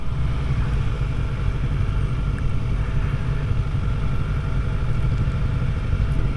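A Kawasaki ZX-4RR motorcycle engine drones steadily while being ridden, a continuous close, loud mechanical roar with wind and road noise mixed in, no voices present.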